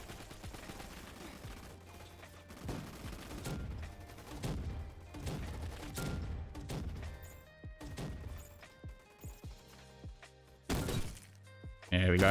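A laser gun fires in a Roblox first-person shooter game, a run of sharp, rapid zapping shots in clustered bursts amid game effects, with people talking over the action.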